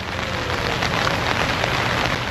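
Rain falling near a waterfall and a freshly formed stream in Madha, Oman, a dense, even hiss of drops and rushing water filling the whole clip, steady and close, without voices.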